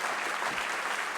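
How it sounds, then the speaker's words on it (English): An audience at the 18th Annual Eugene J. McCarthy Lecture claps in a dense, even burst of applause, a full-room patter heard briefly with no voices over it. "can you all please join me in doing a big round of applause?"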